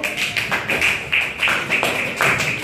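Students in a classroom clap together in a steady rhythm, a run of sharp, evenly spaced claps that sound close and fairly loud, with no talking.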